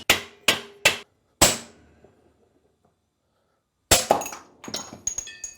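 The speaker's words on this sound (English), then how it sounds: "You take a ball peen and put it in the tip there. Finish driving it down." A ball peen hammer drives the pinion out of a Chevy 10 bolt rear end, four sharp ringing metal strikes in quick succession, then a pause and a burst of clattering impacts and metallic rattling, close and loud.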